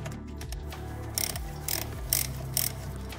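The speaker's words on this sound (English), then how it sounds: "I've now carefully loosened the screws with the ratchet." A hand ratchet loosening Torx T40 oil pan screws, with a close, steady run of metallic clicks and four louder, brief bursts as the screws break free, spaced about half a second apart.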